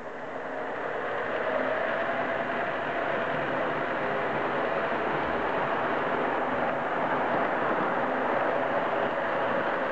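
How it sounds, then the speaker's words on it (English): A steady, continuous rumble and whir of a model diesel train running along its track, even and unbroken throughout with no voices. "now we'll turn on the diesel and get that guy running around the track"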